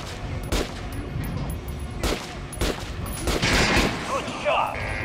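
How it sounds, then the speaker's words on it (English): Gunfire at training dummies in the Metro Last Light Redux video game, a run of several close shots spaced a second or so apart with clanks and metallic ringing, over a steady game background. "Try shooting for the center of the regular dummy's chest."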